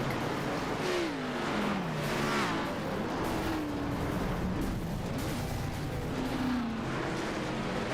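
Race cars in a Premier Series short-track race rumble past continuously, engine tones rising and falling as several cars go by at moderate distance, a steady wash of motor noise.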